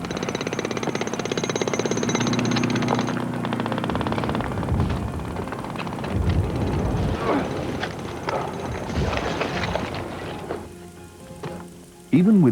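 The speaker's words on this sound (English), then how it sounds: "Even with modern power tools," Modern power tools digging out a Tyrannosaurus fossil in 40-degree heat, a rough continuous buzzing and grinding rattle that runs strongly at first, then breaks into scraping and knocking, close and loud, with brief voices near the end.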